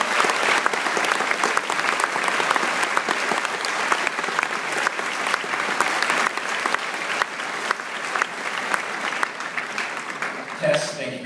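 Audience applause at a high school Veterans Day assembly welcomes a special agent to the stage, a steady, dense clapping that holds for about eleven seconds before fading near the end.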